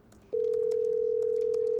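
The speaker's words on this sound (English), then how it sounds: "the distant sound of someone, well, dialing?" A single steady telephone tone comes on abruptly and holds for about a second and a half. Beneath it is a faint background hum, like fluorescent lights in an office.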